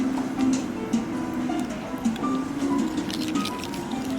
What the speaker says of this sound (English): You just mix it with water.